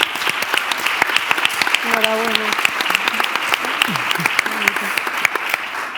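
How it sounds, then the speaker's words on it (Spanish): Steady audience applause fills a Spanish-language conference session on gender equality, with dense clapping continuing throughout and a faint voice briefly audible underneath. "Un aplauso para ella."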